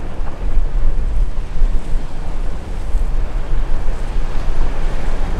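Rough boat wake waves churn and slap steadily on the water in a broad, continuous wash, with wind buffeting the microphone throughout and no talking.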